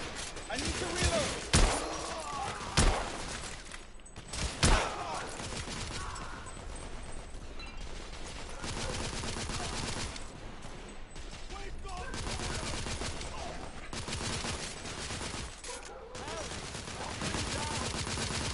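Gunfire in the video game The Order 1886, several loud bursts in the opening seconds followed by sustained rattling and booming battle noise, with game voices speaking throughout.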